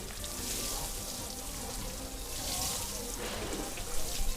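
Water from a watering can pours steadily onto a vegetable garden bed, a continuous close splashing wash with no talk over it.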